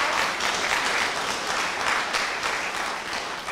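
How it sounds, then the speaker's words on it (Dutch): Audience applause at a 90th anniversary celebration of the Sisters of Paramaribo: continuous, even clapping from a crowd heard close up, with no break. "Geef het een applaus."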